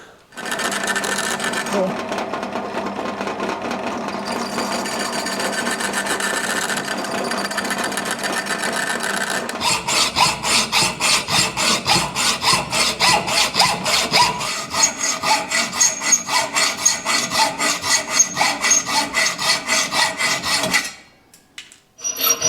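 Steady rhythmic sawing through bronze, a rapid rasping stroke pattern that grows sharper partway through, close up, then stops briefly near the end.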